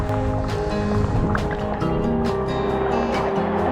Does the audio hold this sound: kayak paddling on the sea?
yes